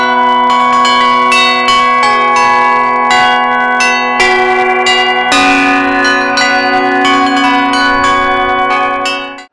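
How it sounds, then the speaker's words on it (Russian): Church bells rung by one of Russia's leading bell ringers on a mobile belfry brought from Oryol region, sounding on a main town square: dense overlapping peals with rhythmic strikes, loud and sustained, no talk. "главную площадь наполнил чарующий колокольный звон в исполнении одного из лучших звонарей России Александра Чайки."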